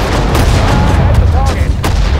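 Dense, loud gunfire from a Sudden Strike 4 battle in the Japanese campaign, with shots cracking over a continuous low rumble of combat.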